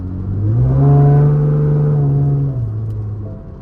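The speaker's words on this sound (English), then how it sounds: "Driving in manual mode all day today, baby. Downshifting the mess out this thing." A 5th-generation V6 Camaro with a muffler delete drones loud and close, its exhaust note holding steady before dropping as it downshifts near the end.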